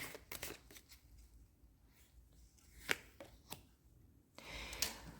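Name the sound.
shuffling tarot cards back into the deck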